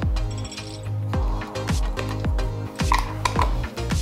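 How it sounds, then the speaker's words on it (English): A T20 wrench tightens a bolt on the motor cover of an Ibis Oso electric mountain bike, giving a close, steady run of metallic ratcheting clicks and small clanks that continues throughout with no talking. "Make sure all the wires are underneath the cover, and then tighten with a T20 wrench."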